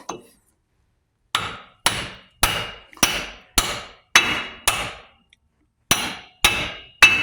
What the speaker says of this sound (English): as we tap on this, you're going to see that axle start to come out